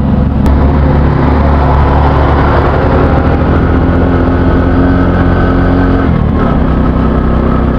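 A Euro Sport 110cc motorcycle engine labours uphill on a rural road, a loud, close, continuous droning hum with a steady pitch and a brief dip in revs near the end.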